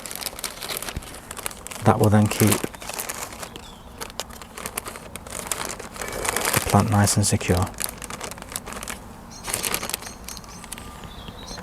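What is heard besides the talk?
plastic zip bag crinkling as it is placed over a plant cutting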